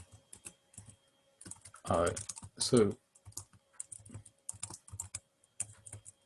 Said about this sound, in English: So typically I'd be typing in the terminal like this